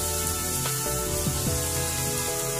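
Chili sambal sautéing in a pan gives a steady, close sizzle and frying hiss, with a few scraping stir sounds over about three seconds and no talking.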